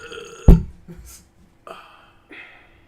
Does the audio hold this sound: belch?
yes